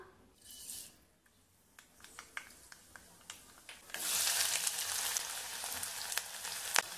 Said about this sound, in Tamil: எண்ணெய் சூடாயிடுச்சு இதில் நம்ம வச்சுருக்கதை தாளித்து விட்டுறலாம்